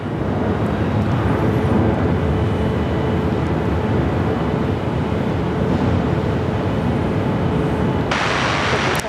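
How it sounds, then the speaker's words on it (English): An airliner makes a long takeoff roll at Sydney Airport, a loud, steady roar of jet engines sustained throughout, heard from nearby with no speech. "Oh, very nice takeoff roll there."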